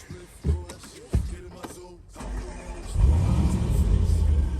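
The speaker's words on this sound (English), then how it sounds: "we might as well give the engine a start and see how it sounds" A person talks briefly, then a Range Rover Sport SVR engine cranks and fires up, settling into a deep, steady idle rumble close by.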